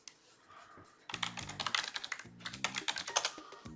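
Rapid keystrokes on a computer keyboard, typing a short search in two quick bursts with a brief pause between, close and clear with no talking.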